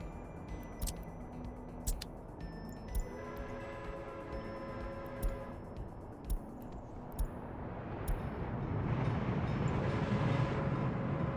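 Waste train rolling by in the MegaCity video game, a low rumbling rail sound with periodic clicks and tones, rising into a louder wash near the end.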